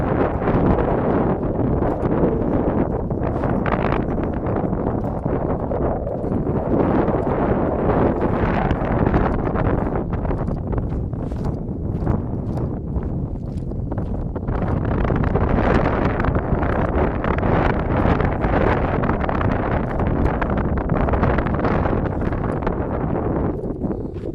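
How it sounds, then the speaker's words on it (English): Strong wind at Angels Gate Park buffets the microphone continuously, a loud steady roar with gusty rumbling throughout and no voices. "Yep, it's still windy."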